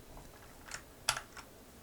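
A few keys pressed on a computer keyboard for a Ctrl+Shift+L shortcut: three quiet, separate clicks close to the mic with a short gap between them, the third the sharpest.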